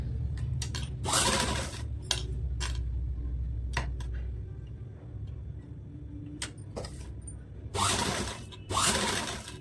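Domestic sewing machine stitching along a marked line on a princess-cut blouse neckline, short bursts of rapid mechanical clatter separated by pauses and clicks of the mechanism, close and moderately loud, with no talking.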